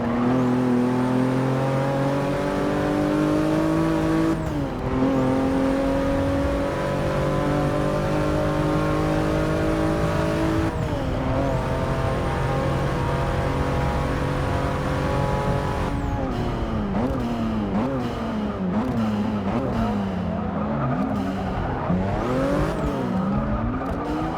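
Porsche race cars roaring around a track in Forza 6, engines climbing steadily through the gears with sharp drops at each shift, then a faster flurry of upshifts and revs near the end, loud and continuous.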